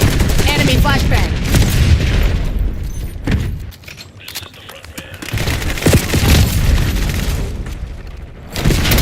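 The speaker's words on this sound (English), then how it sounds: "Enemy flashbang." In the Robocop Rogue City video game, an enemy flashbang goes off amid dense combat: loud booms and bursts of gunfire crowd together, easing briefly in the middle before the noise swells again.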